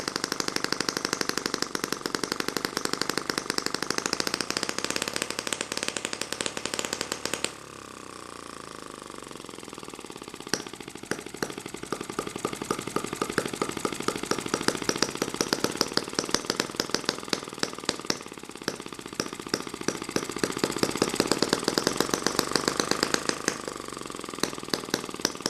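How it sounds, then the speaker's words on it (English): A tiny M12 water-jacketed gasoline model engine runs under load, a fast buzzing drone with rapid ticking firing pulses; it drops briefly, then climbs and wavers in speed, close and steady with no voices. "This little engine wants to run with a load."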